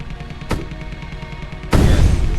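Heavy cannon fire from a warship battle in the video game Space Engineers: a sharp blast, then a louder sustained roaring burst near the end, over a steady droning hum.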